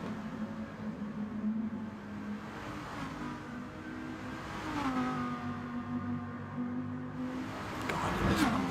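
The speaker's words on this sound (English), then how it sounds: "Guiding this Lamborghini in the wet around these tricky turns." A Lamborghini race car engine hums and shifts pitch continuously in a wet racing video game race around tight turns in Tokyo, rising and falling through the gears at moderate volume with no talk.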